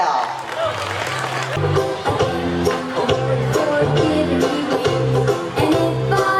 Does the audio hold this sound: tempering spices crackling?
no